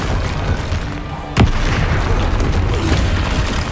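A Confringo spell explodes in Hogwarts Legacy as a single sharp boom partway through, set against a loud, dense wash of game combat noise.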